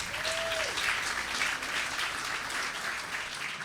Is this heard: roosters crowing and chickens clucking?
no